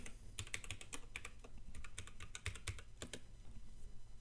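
Keyboard typing while logging in to a computer account, a steady run of close, crisp key clicks with uneven rhythm and no voices.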